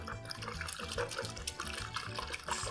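A spoon stirs an egg and milk mixture in a bowl while lasagna is being made, giving a continuous wet sloshing and clinking with steady rhythmic strokes, close and moderately loud.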